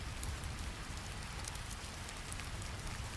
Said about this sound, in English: The rain continues its gentle pattern. Drops fall steadily from grey clouds.